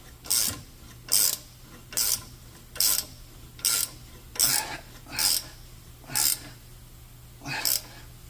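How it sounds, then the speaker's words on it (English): A ratcheting wrench tightens bolts on a Kenworth T680 truck in nine evenly spaced rasping strokes about a second apart. The strokes are close, with a low hum underneath. "I take a ratcheting wrench and finish it off"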